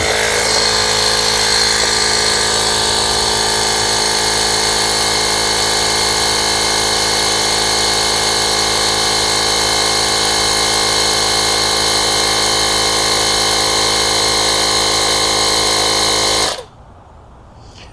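A steady electric air pump drones loudly and evenly while inflating a C8 Corvette tire to 31 psi, its motor hum running unbroken for about sixteen seconds before cutting off abruptly into near quiet.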